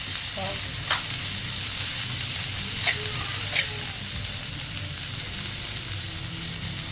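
Onions sauté in oil in a pan for paniyaram, a steady bright sizzle with a few soft scrapes and taps of a stirring spoon, faint talk in the background.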